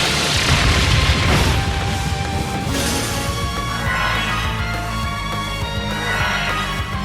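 The Brionac weapon fires in Trails of Cold Steel III, producing a loud, sustained booming blast that roars without a break for about seven seconds alongside steady tonal game sound.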